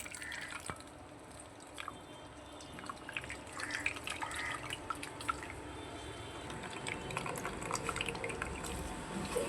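Water drips and trickles from salted vegetables being squeezed, a soft close patter of liquid over a steady background hiss, continuous and faint throughout with no voices.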